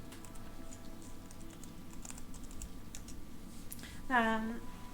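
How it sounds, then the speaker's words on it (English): Soft, rapid keystrokes on a computer keyboard, faint and steady under a quiet background, ending with a brief rising electronic tone. "Am I typing that properly?"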